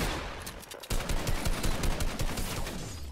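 Rapid gunfire bursts in the Fortnite video game, dense and loud, with a burst of rattling shots continuing without pause after a brief lull.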